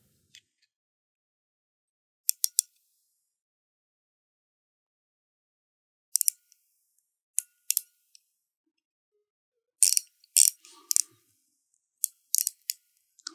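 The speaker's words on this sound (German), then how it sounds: "tun wir das Endmaß mit 50 mm zwischen die Messflächen klemmen" Clamping a 50 mm gauge block between the measuring faces of an outside micrometer produces sparse sharp metallic clicks and ticks, some in quick pairs or clusters, against near silence.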